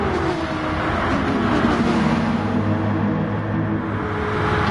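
Supercar club race at Spa with a Porsche and a Beetle battling: a steady, loud wall of engine roar as several cars run together, holding a continuous drone with no voices.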